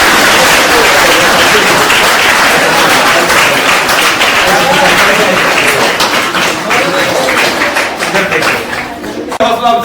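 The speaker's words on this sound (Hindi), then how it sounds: "ताली बजा दीजिए जोर से।" An audience at a school award ceremony where bicycles are presented to top-scoring girl students claps loudly and continuously for several seconds, dense and close, tapering slightly near the end.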